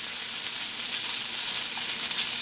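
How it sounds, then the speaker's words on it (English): Tofurky chorizo sautéing with potatoes in a pan gives a steady, close sizzle, an even hiss that runs unbroken throughout. "So essentially all you have to do is saute this to warm it up."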